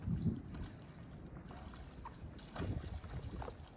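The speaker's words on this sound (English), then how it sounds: "He's paddling in." A canoe or kayak paddles in near Kaneohe Sandbar off Oahu, Hawaii, with faint water splashes and paddle strokes over a steady wind-blown outdoor hiss.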